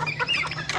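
Freshly released chickens cluck in quick, close, fairly loud bursts for under a second.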